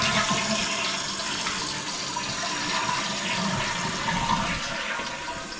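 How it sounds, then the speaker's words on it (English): A toilet flushes with a steady, rushing surge of water that swirls and drains continuously for several seconds, close and fairly loud, with no voices. "I'm going to keep flushing it."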